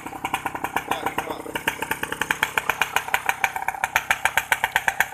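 A 1990s Suzuki RC80 motorcycle engine is revved against its rev limiter, giving a loud, close, rapid pulsing burble as the ignition cuts in and out without a break.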